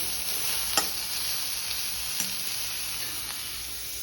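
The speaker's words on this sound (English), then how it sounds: "And here are these onions frying." Onions frying in a pan for a Goan red beef curry, a steady, faint sizzle with a few soft clicks of the utensil against the pan.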